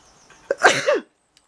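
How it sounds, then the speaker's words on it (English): A single person's sneeze indoors, close and sudden, a short sharp burst after a quick intake of breath, followed by quiet. "Hold on a moment, I'm going to sneeze."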